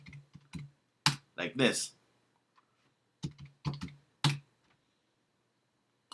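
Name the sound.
typing a password on a Mac keyboard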